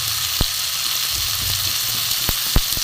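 Cauliflower curry spices (salt, turmeric, chili powder, green chili, cumin, coriander and black pepper) fry steadily in a pan, a continuous bright sizzle broken by a few sharp spatula clicks against the pan, with no talk.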